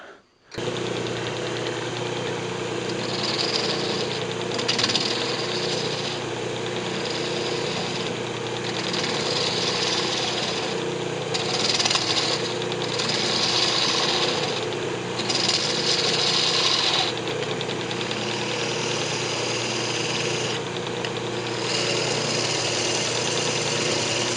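A wood lathe spins while a yew box is hollowed out, a steady loud motor hum under a continuous rough cutting noise that rises and dips in waves as the tool bites, close by and with no talking.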